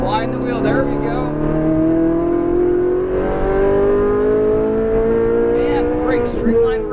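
Ferrari 458 Italia accelerating on a race track, its engine note climbing steadily with rising harmonics across several seconds, loud and sustained, with a driving instructor talking over it.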